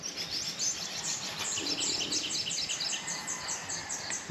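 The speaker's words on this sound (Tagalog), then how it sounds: "Iba't ibang uri ng ibon." Various birds sing and chirp at a riverside campsite in the Luzon countryside, a busy layered chorus of rapid repeated tweets over a soft hiss of insects and flowing water, fairly distant and continuous.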